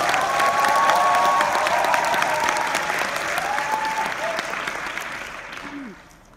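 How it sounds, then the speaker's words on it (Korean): Loud, dense applause from a large rally audience at a Nu Skin Korea Ace Rally, sustained and steady before tapering off near the end, with faint cheering mixed in. "여러분 큰 박수 한번 쳐주시면 제가 힘이 날 것 같아요."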